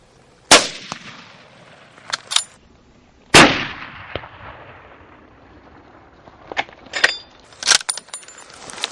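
Rifle shots during an antelope hunt in Namibia: two loud, close cracks with long rolling echoes, followed by several sharper metallic clicks and softer knocks, likely the rifle's bolt being worked, set against quiet open air.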